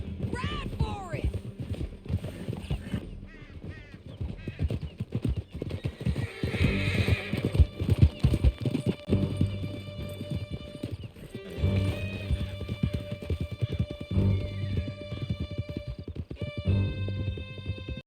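Horses gallop in Red Dead Redemption 2, a steady rapid clatter of hooves with neighs and whinnies over the top, while voices talk across most of the chase.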